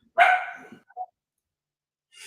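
A dog gives one sharp, close bark followed by a softer short yip, then silence, and a faint trailing noise comes at the end.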